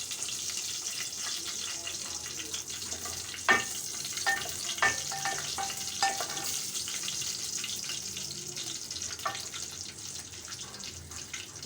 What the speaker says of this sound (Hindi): मैंने इसमें ज़ीरा डाल दिया, थोड़ा ज़ीरा ब्राउन हो जाए।